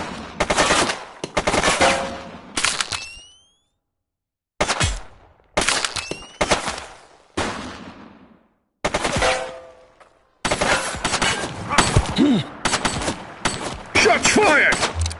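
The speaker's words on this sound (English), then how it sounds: "Shots fired!" Gunfire in The Precinct video game: loud bursts of rapid automatic fire in several separated volleys, with short quiet gaps between them and a longer, denser burst at the end.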